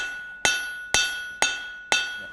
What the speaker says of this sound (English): I forged the basic profile of my hot chisel.